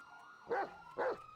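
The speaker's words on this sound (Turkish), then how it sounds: "pitbull cinsi yine bir tane köpek bulduk" Two sharp barks from a pit bull in GTA 5, about half a second apart, fairly close, over a steady low electronic hum.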